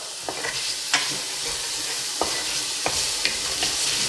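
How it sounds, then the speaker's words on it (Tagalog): Pork searing in a pan for ginataang monggo, a steady sizzling fry with scattered scrapes and clicks of stirring, close and fairly loud with no talking. "kapag sinisir natin yung pork"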